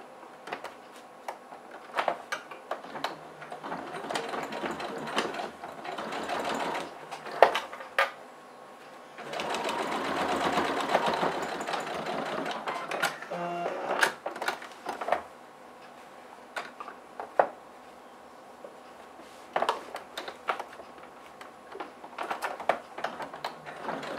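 Fabric pieces of a school pencil case are stitched on a sewing machine, a close steady whirring run for a few seconds surrounded by frequent clicks, taps and fabric handling.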